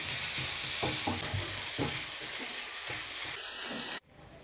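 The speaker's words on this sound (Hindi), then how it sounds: "अब हम इसमें भूनेंगे पैन में खोया" Khoya roasting in a pan over a medium-low flame, a steady close sizzle and hiss with soft scraping from stirring, cutting off sharply near the end.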